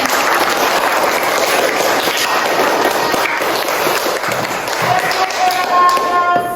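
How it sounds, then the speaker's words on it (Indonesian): A group claps lively for themselves at the close of a Catholic religion class session, a busy patter of hands with scattered sharper taps and some voices mixed in. "Mari kita beri tepuk tangan yang meriah untuk diri kita"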